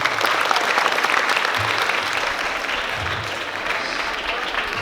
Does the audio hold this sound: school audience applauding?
yes